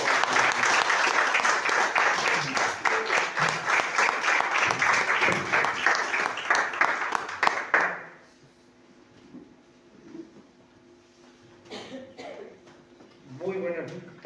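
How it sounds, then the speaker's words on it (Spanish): Church congregation at a Christian service applauding loudly in a dense, sustained burst for about eight seconds, then falling to quiet room murmur with a few faint later claps and voices. "Aplausos al Señor,"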